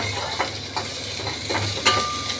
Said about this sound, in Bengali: একদম সিম করে রেখেছি, এটা নাড়ানাড়ি হবে সিমেতে, আঁচটা বাড়াচ্ছি না